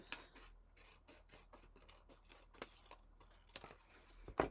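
Scissors snipping through paper while trimming the base layer of a handmade fan card, a string of short, close rasping cuts with a sharper snip near the end.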